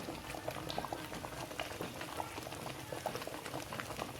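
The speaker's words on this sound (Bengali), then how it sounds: "এই যে বসিয়ে দিয়েছি দেখো কেমন টকবক করে ফুটছে" Raw mango chutney tempered with dried red chilli, fenugreek, mustard seed and bay leaf bubbles and boils in a pan, a dense, continuous popping and gurgling heard close up and alone.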